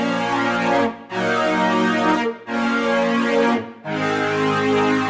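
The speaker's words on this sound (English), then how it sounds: "Then the brass changes up and we're adding in some chords." Brassy synth chords from a production of a song, sustained and loud, in three long held blocks separated by brief gaps, with no voices.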